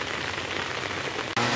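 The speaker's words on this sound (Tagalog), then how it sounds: "biglang lumakas na naman po yung ulan mga idol" Heavy rain pours down outdoors in the Philippines, a steady dense hiss on surfaces that suddenly swells louder near the end, with no one speaking.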